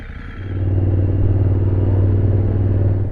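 The Grizzo vehicle's engine catches and settles into a loud, steady, close-up rumble that holds evenly for a few seconds.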